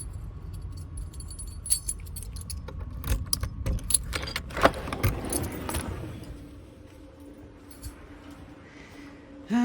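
Keys jangle close by in a burst of metallic clinks and rattles at a repair shop, followed by quieter handling noise and a faint hum, with no talking.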